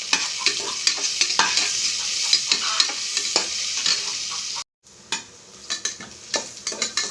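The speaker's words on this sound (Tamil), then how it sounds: "நல்லா வதக்கிக்கலாம்." Onions, cashews and green chilies sauté in ghee in a pan, with a spatula scraping and stirring in quick repeated strokes over a continuous frying sizzle, close up, briefly cut off midway before resuming.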